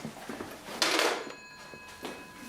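A telephone rings and goes unanswered, one bright burst of ringing followed by a second fainter ring against a quiet room.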